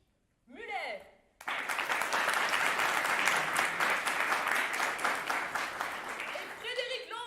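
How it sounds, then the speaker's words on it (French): An audience applauds the stage cast after a theatre performance, with dense, sustained clapping that starts suddenly after a short spoken bit and keeps going. Talk is heard before and at the end. "j'aimerais qu'on en profite aussi pour applaudir mes camarades de scène ce soir"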